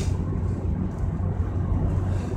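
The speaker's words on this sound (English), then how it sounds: "That's the sound of my air conditioner." Air conditioner blowing from a vent directly beneath a phone, a steady close, low rumbling whoosh of moving air with constant loudness and no voices.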